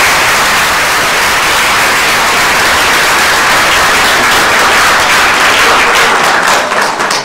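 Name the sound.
audience applause for panelists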